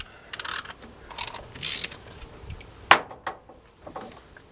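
A ratchet clicks as it spins off a 15mm valve cover bolt on a 5.9 Cummins engine, with short bursts of close, crisp clicking separated by pauses and a sharp metallic tap.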